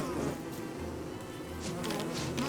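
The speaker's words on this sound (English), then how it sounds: "when you catch a bee, it pisses off the rest of these killer bees that are charged with protecting the hive" Killer bees guarding a hive in the video game Don't Starve buzz continuously, a droning swarm hum that swells slightly toward the end, with no talk.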